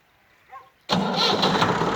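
A Massey Ferguson 260 tractor, an 18-19 model, cranks briefly and then its diesel engine catches suddenly and settles into a loud, steady, close idle.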